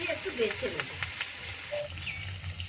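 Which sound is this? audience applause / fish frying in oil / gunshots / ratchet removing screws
fish frying in oil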